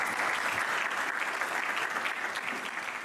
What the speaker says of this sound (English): let's give a round of applause to the organizers